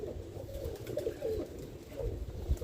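Roller pigeons coo in low, soft, rolling calls that repeat close by over a steady murmur of loft noise.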